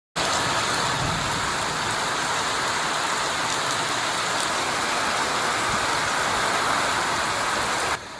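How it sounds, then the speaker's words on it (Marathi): Rain falls steadily in a continuous broadband hiss that stays even and fairly loud from start to finish, with no voices over it. "त्यामुळे असाच पाऊस सुरू राहिल्यामुळे आपण बघतोय की हवेत गारवा निर्माण झाला आहे."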